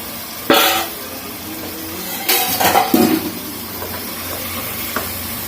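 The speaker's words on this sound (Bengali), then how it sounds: "এখন আমি এখানে কেটে রাখা মাংসগুলো দিয়ে দিচ্ছি" Pieces of cut meat dropped into a hot cooking pot, giving a couple of brief sizzling bursts and clinks that settle into a low steady hiss, close by with no talk.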